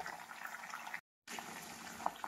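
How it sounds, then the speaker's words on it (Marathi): Hibiscus flowers and leaves simmering in oil to make a hair oil give off a soft, steady bubbling hiss with a few small pops. The sound cuts out completely for a moment midway, then resumes. "आता हे आपण किमान 15 ते 20 मिनिट त्याला असं तेलामध्ये शिजू देणार आहेत"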